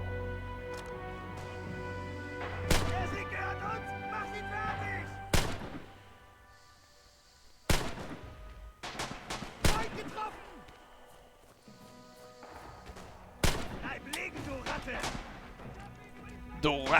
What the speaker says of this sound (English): With the bloody trench gun.